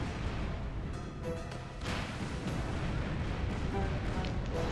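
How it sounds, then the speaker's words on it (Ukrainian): Heavy rumbling cannon fire and booming impacts in a pirate ship naval battle video game, dense and continuous with loud low-end blasts. "Ох, ох, нас стріляють серйозно."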